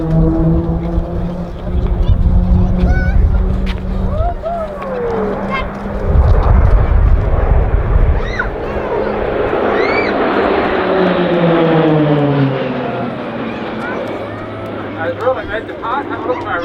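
RAAF Roulettes PC-9A propeller aircraft fly a display at RAAF Base Point Cook, their engine drone rising and falling in pitch as they pass overhead, loud and sweeping beneath a voice talking over it.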